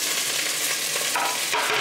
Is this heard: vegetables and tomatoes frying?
yes